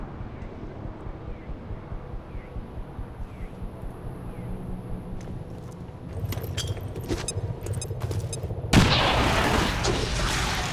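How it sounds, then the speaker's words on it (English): A soldier's incendiary grenade detonates in the turn-based tactics game XCOM 2: quiet ambience and scattered small clicks give way to a sudden loud, broad burst, followed by a sustained roaring, crackling rush. "we can hit them all with our lesser non-grenadier carried incendiary grenade"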